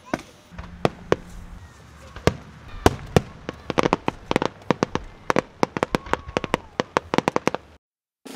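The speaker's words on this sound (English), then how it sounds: "Look at the fireworks." American Independence Day fireworks explode in a rapid series of sharp cracks and pops, scattered at first and then thickening into a dense volley before falling silent, with faint voices in the background.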